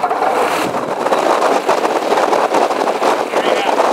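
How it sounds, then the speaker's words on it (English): Rotax 912 aircraft engine on a Corby Air Alto 100 running after a cold start, producing a loud, steady, broadband roar mixed with gusty wind and propeller noise throughout. "This is the Rotax 912. It's installed on a Corby Air Alto 100."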